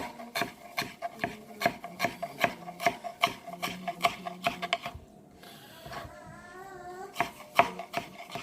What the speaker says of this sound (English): just gonna cut it up in fine bits. Really fine bits.